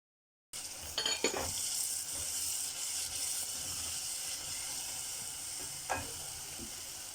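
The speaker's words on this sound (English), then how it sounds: "Cover and let simmer for 2 to 3 minutes." Liver stew simmering in a covered pot gives a steady close hiss and sizzle, with a couple of soft clinks and bumps near the start and another light knock later.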